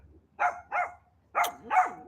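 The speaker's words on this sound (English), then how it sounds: "You hear a puppy?" A puppy gives four short, high yelps and whimpers in two pairs, close and fairly clear against a quiet room.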